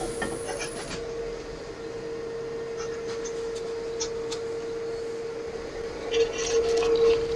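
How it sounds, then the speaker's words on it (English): A 24mm Forstner bit bores into the centre of a wooden piece turning on a lathe, a steady faint hum with a sustained tone and light scraping, swelling louder near the end. "so I'm going to be drilling a hole in that centre part."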